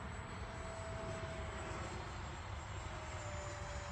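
An FMS 80mm F-86 Sabre RC jet makes a full-throttle pass, its electric ducted fan giving a steady, loud whooshing roar with a faint high whine that holds for the whole stretch without any break.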